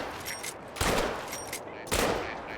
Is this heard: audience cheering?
no